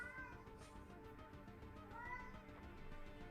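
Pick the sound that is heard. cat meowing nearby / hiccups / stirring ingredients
cat meowing nearby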